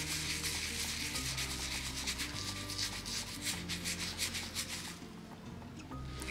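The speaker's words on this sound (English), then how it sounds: "gonna add salt to the whole thing. And I'm just gonna rub." Salt being rubbed by hand over the surface of an antique wooden secretary desk, a steady, dense scrubbing texture that runs continuously with slight surges in intensity, close and fairly quiet, with a low steady hum underneath.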